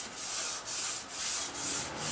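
Sandpaper rubbed by hand back and forth across a wood surface with raised grain, five smooth, even strokes in a steady rhythm, close and alone.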